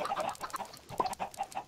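Chickens in Minecraft cluck in a busy, overlapping flurry of short, close clucks with no talking.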